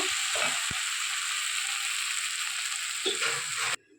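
Continuous bright sizzling of spices frying in a pan, with a couple of scraping stirs, before it cuts off abruptly near the end.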